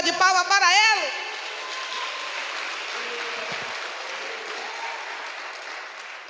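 A church congregation gives a round of applause during a worship teaching session, steady clapping that follows a brief stretch of sung or spoken voice at the start and continues at moderate level to the end.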